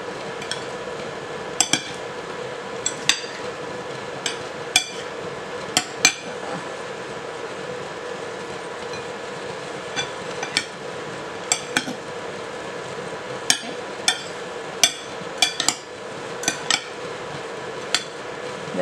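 Chopped salad with cilantro is tossed in a bowl, with irregular sharp clinks and taps of utensils against the dish scattered through a quiet kitchen hum, close and moderately loud, with no talking.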